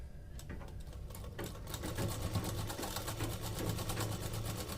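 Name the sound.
sewing machine stitching trouser cuff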